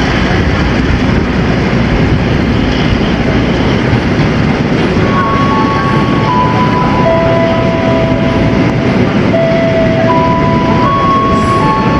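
A passenger train rumbles steadily and loudly past at close range through a station, with a continuous roar and faint tonal squeals from the wheels.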